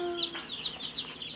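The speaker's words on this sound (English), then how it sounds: "Come here, chicken." Young meat bird chicks peep and cluck in quick, repeated high chirps, close by and fairly loud, with no talk over them.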